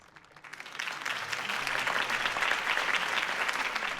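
Applause from a large crowd in a Batman video game swells in after a quiet start and holds steady, a dense wash of clapping with no voices over it.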